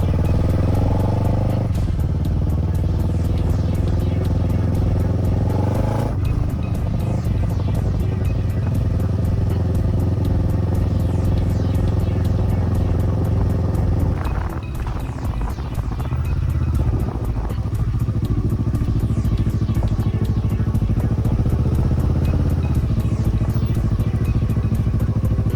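Motorcycle ridden on the way to a spot, its engine droning loudly and steadily the whole time with shifting revs and wind rush, no talking.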